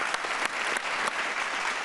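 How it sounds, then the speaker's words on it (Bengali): A brief burst of studio audience applause for a dancer on a televised dance competition, dense and even clapping lasting just under two seconds with no talk over it. "তাহলে তো রুবেলের জন্য একটা জোরে হাততালি হবে"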